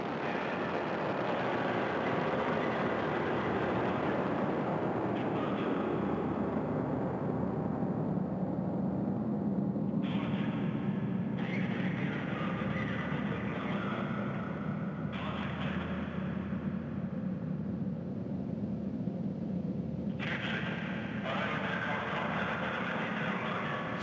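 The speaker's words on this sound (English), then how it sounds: "Good engine performance so far for the first stage of the Soyuz booster as it heads downrange from the Baikonur Cosmodrome" Soyuz booster first-stage engines roar as a Progress 61 supply ship climbs from the Baikonur Cosmodrome, a steady, distant low rumble that holds at moderate level throughout, with occasional shifts in the hiss above it.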